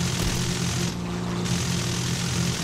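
Propeller aircraft engine in the video game War Thunder, a steady loud droning hum with low harmonic tones throughout, no talking.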